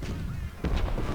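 Troops fire in Ultimate General, a Civil War strategy game, during a Confederate campaign. A few muffled, thudding volleys of gunfire boom over a low rumbling background in a brief burst.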